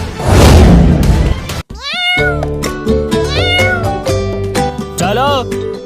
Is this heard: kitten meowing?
yes